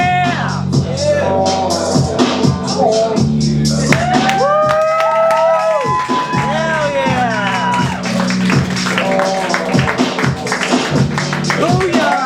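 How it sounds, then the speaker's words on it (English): Open mic audience in a small venue claps and cheers throughout, dense applause with whoops and shouts mixed over a sung or spoken line from the stage. "Big round of applause for Jetsider Watson, everybody"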